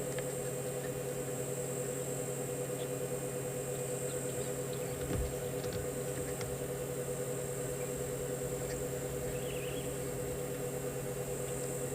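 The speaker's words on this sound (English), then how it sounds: "I can hear cicadas calling." Cicadas calling during an afternoon safari in South Africa, a steady high-pitched hum that holds unbroken in the background, faint and constant, with a brief low thump partway through.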